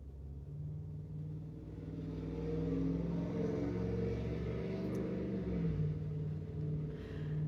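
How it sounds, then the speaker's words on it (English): A loud motorcycle engine roars steadily nearby as it passes, a loud low rumble that swells and holds for several seconds with no talking. "a really loud motorcycle went by"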